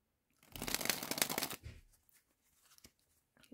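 Holographic playing cards are fanned quickly with one hand, giving a dense, crisp riffling burst of about a second up close. A softer rustle follows, then a few faint handling ticks.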